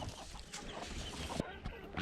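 Young chickens in a chicken run cluck and peep softly at a distance, scattered short calls over faint outdoor background.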